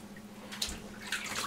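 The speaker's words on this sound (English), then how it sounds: "I usually just use a wet washcloth and dribble some water down, avoid his eyes, get all that soap out." Water dribbles from a wet washcloth to rinse soap from a baby's hair, giving soft close trickling and splashing in short bursts over a quiet room hiss.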